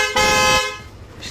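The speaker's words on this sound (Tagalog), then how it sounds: "Busina." The stock horn on a motorcycle gives a single loud, close honk lasting about half a second, then fades, with no talk.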